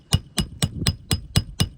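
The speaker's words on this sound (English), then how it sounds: "Start hammering, and I'll pull that tool out." Hammer blows driving roofing nails beneath shingles, seven sharp strikes in a steady even rhythm, close and loud with nothing else over them.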